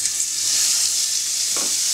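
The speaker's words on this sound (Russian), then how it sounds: "Обжариваем котлеты буквально секунд по 30, по 40 с каждой стороны." Steady hiss of burger patties frying in vegetable oil in a hot pan, with a brief soft clink or stir near the end; no voices.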